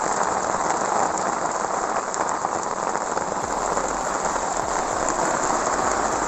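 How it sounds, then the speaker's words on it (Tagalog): Heavy rain pours steadily and loudly at the Pandana River in Calauag, Quezon, Philippines, a dense continuous hiss of drops pounding a surface nearby. "Lakas ng ulan."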